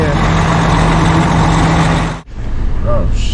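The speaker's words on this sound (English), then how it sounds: "Finally, so truck's warming up." A truck engine idles while warming up, stuck in three feet of snow after trouble starting: a loud, close, steady low rumble that drops off abruptly partway through, leaving a quieter, thinner sound.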